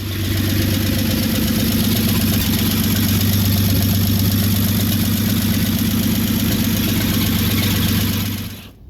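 A 1948 Dodge Custom engine idles steadily and loudly, a constant low rumble with a fast even chug, running alone until it cuts off at the end.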